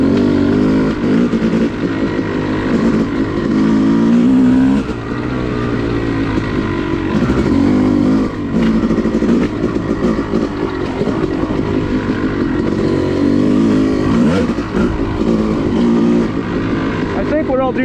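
Yamaha YZ250 two-stroke dirt bike ridden on wooded OHV trails at Enoree in spring, its engine droning and revving continuously up close, rising and falling with throttle changes.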